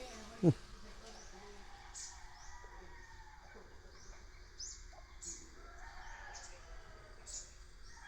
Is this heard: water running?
no